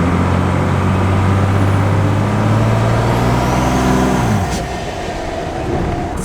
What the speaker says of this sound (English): I have the window open so you can try to hear the turbos screaming a little bit.